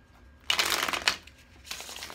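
Tarot cards handled and slid back into a deck, a crisp papery riffle of close shuffling and rustling in two short bursts with a quiet pause between.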